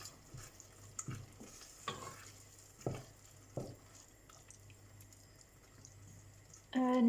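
Beans simmering in a pot for ugali and sukuma get a gentle stir, with soft scraping knocks over a faint low bubble and a voice briefly at the end.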